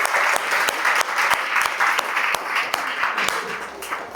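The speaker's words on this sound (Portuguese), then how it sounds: "uma salva de palmas pra vocês" Steady, dense applause from a crowd, with sharp individual claps standing out throughout, fairly loud and continuous for several seconds.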